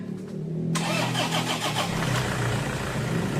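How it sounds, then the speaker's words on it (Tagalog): A Toyota Hilux pickup engine with an oil leak and low power cranks briefly after a quiet moment, then catches and settles into a steady, loud idle close by. "umistart na itong makina"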